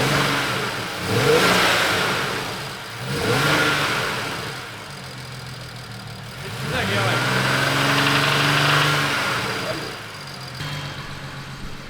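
A car engine with a knocking noise inside is started and run with its drive belt removed, revving up and settling in several rising and falling surges, with people talking over it.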